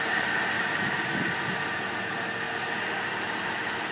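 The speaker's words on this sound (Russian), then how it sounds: "Двигатель работает хорошо." A BMW M5's 2.3-liter, 190-horsepower petrol engine idles close by with a steady, dense mechanical rumble and light ticking, running evenly throughout without any voices.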